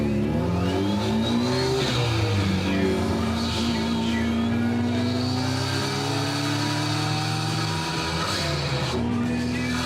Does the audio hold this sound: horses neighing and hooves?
no